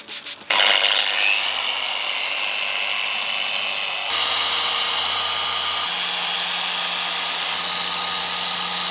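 A machine polisher with Menzerna 300 compound works a car door sill, a loud steady whirring hum that starts abruptly and runs continuously, with slight shifts in pitch as pressure changes.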